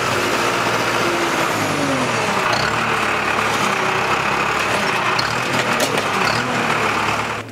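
A New Holland 8970 tractor from model year 2000, hitched to a Samson Flex 16 slurry spreader, runs with a steady, loud, continuous engine drone close by.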